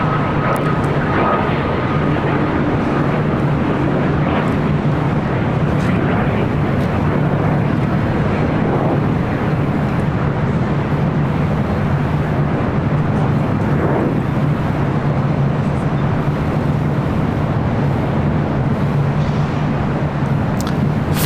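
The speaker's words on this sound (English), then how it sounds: "All right, the Emirates A380 next arrival." Loud, continuous jet roar of an Emirates Airbus A380 airliner arriving at LAX, a steady broad rumble that holds close and strong throughout, with no voices.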